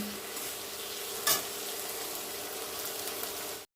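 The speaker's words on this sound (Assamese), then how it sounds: "এতিয়া অলপ দেৰি ভালকৈ এইখিনি ভাজি ল'ম।" Ginger, green chili, garlic and tomato fry in a pan with a steady, close sizzle and a brief louder crackle early on, without talk.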